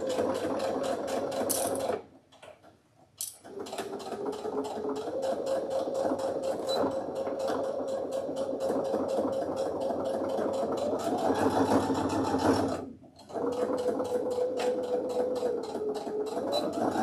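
A sewing machine stitches fabric for a zipper journal pouch, a steady close whirring hum running almost continuously with two brief stops.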